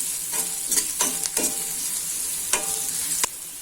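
Chopped chillies and turmeric sizzle in hot oil while a spoon stirs them in a few scattered scraping strokes.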